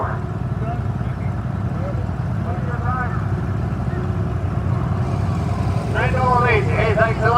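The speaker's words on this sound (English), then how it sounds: "That's Hercules D4800 diesel engine in there, turbocharged." An Oliver 2150 tractor with a turbocharged Hercules D4800 diesel engine rolls past in a parade of power at a historical engine show. Its steady low diesel rumble runs beneath an announcer's continuous talk.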